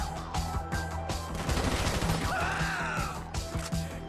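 SMG gunfire in Grand Theft Auto V during a gang attack, rapid loud bursts of shots with sharp impacts and crashing hits, close and continuous over the game's background sound.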